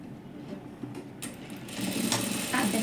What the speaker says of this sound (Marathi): साधारण अर्धा इंच असं पकडून शिलाई मारून घ्यायची